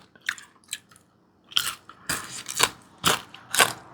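Small white pomfret, fried with garlic, is chewed up close in crisp, crunchy bites that come in several uneven bursts, louder toward the end, with no talking.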